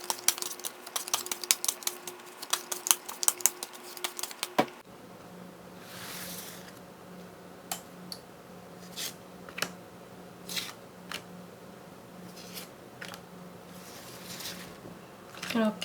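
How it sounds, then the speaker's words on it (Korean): Tarot cards being shuffled and drawn: a fast, crisp flurry of riffling card clicks at first, then sparse single slaps and flicks as cards are pulled out, all close and clear without talking. "저는 그동안 카드를 섞고 또 뽑아보도록 할게요."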